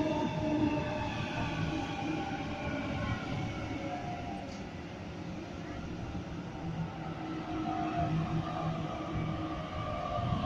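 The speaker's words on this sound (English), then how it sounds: "Central service arriving into platform number one." A Sydney suburban train pulls into the platform at Clarendon station, its steady rumble and rail noise continuing throughout at close range with faint tonal whine from the motors, no talking.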